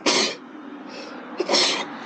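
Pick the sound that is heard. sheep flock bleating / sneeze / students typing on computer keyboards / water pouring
sneeze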